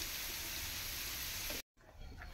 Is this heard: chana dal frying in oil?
yes